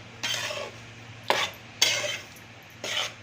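Ragi (nachni) flour roasting in plenty of ghee being stirred evenly in a pan, four distinct scraping sweeps close up, each a short rasp separated by brief pauses.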